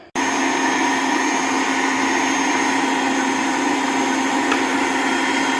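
A kitchen blender whirs at high speed making a smoothie, a loud steady motor drone that starts abruptly and runs evenly throughout, close up with no talking.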